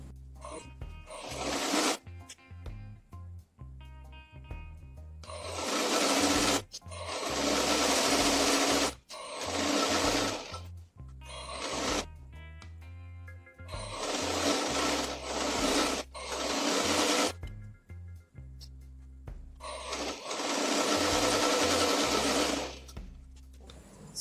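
Sewing machine stitching the folded hem of an A-line princess cut tunic, loud close whirring runs in several long bursts with short pauses between them.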